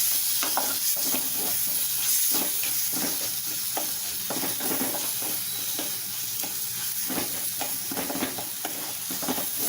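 Tomatoes sautéed and mashed in a pan for a mushroom gravy, with a steady close sizzle broken by repeated rhythmic scraping and pressing strokes of a spoon, no voices.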